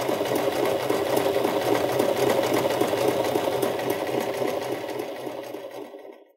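A sewing machine stitches a seam joining a skirt to a wedding dress corset, whirring steadily and fast throughout, close and loud, with no talk, then winding down and falling silent at the end.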